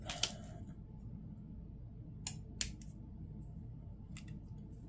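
Plastic model kit parts for a Moderoid Sol Sigma Gravion kit are snipped from the sprue: a few sharp, close clicks of cutters, spaced irregularly, against a quiet room hum.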